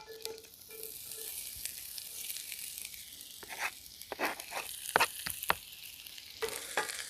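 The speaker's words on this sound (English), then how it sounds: "We're going to saute these onions down until they're golden brown." Onions saute in a pan for Swiss onion soup, a soft, steady sizzle broken by a few sharp clicks and scrapes of a stirring utensil, fairly quiet and close, with no voices.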